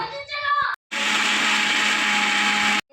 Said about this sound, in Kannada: ಸೊ ತರ್ತರಿಯಾಗಿ ಮಿಕ್ಸಿಯಲ್ಲಿ ಹಾಕ್ಕೊಳ್ಳೋಣ